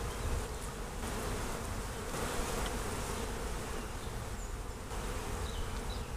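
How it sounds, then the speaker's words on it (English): A dense, steady drone of many honeybees buzzing together inside an 18-frame long hive, close and continuous throughout. "These are beautiful looking bees."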